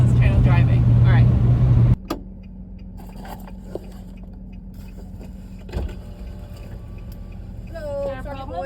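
A camper van drives on a road in New Mexico: a low, steady engine and road rumble runs throughout, with loud low humming at the start, then occasional clicks and faint chirping tones over the drone.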